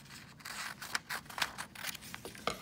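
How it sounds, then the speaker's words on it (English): Scissors cutting paper for a mural block, a handful of short crisp snips and rustles at close range, quiet and alone without talk. "And I'm just gonna cut it right there."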